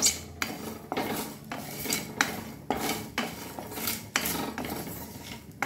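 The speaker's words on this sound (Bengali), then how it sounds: "এই মশলাগুলো আমি শুকনো খোলায় আমি ভেজে নেব।" Whole spices, dried chilli, cumin, coriander, pepper and bay leaves, dry roasted in a pan, heard as repeated close scraping and rattling strokes of a utensil stirring them over the hot surface, with no voices.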